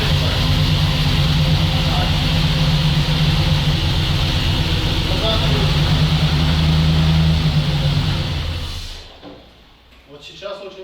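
ZIL-131 truck fitted with a Chevrolet engine and automatic gearbox running, a loud, steady, close engine drone that fades near the end, with someone talking over it.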